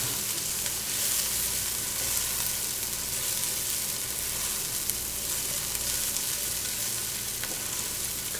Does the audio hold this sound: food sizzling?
yes